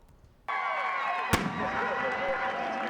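A single sharp cannon boom, fired after a score at a football game, cuts through the steady roar of a large cheering crowd.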